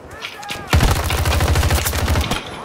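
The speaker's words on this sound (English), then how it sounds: "Everybody's already shooting at each other" Gunfire from a Battlefield 2042 battle royale match on the Caspian Border map, with rapid automatic bursts rattling steadily for about a second and a half after a quieter start, loud and close.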